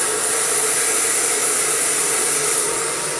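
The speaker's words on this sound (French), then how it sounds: "Vous allez passer votre sèche-cheveux comme ça en biais" A handheld hair dryer blows steadily and loudly while a brush smooths hair straight during a sleek blow-dry, a constant unbroken rushing whoosh with no voices.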